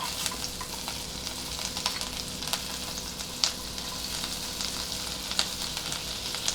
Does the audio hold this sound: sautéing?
yes